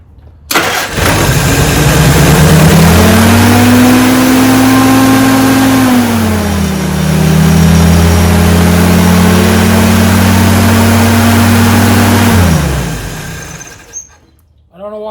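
A barn-find Willys jeep engine, just re-timed with its firing order corrected, cranks, catches and roars close by, holding a loud, high rev for several seconds before dipping and rising again, then cutting off.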